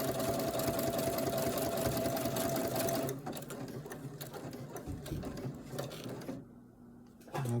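A domestic sewing machine stitches a buttonhole on a first sewn shirt, running at a fast steady whir for about three seconds before slowing into softer, irregular clicks and then stopping.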